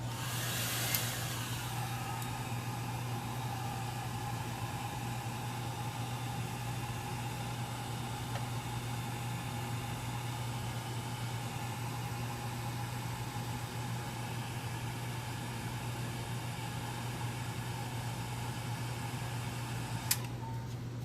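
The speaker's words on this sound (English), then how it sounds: "Let me keep my dryer running" Steady whir of a heat dryer running continuously to dry paint on a ceramic tile, constant and close with a brief click at the start and near the end.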